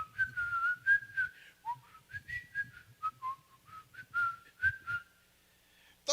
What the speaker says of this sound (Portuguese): Daí assobiava